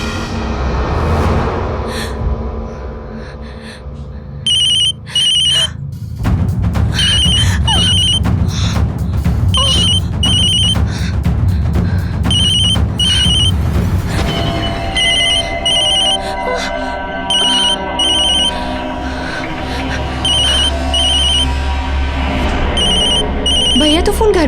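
A telephone rings in a tense household scene, repeating bright ring bursts that stand out over music and background sound throughout, loud and close.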